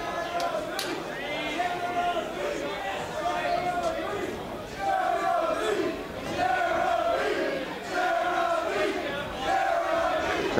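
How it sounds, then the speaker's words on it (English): Arena crowd at an MMA fight roars and chants in rising waves in support of fighter Jeremy Kennedy, loud and sustained throughout with swelling surges of cheering. "Crowd getting behind Jeremy Kennedy."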